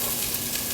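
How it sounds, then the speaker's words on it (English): Brief, steady sizzling of diced onion frying in a hot pan, close and moderately loud. "Sizzle."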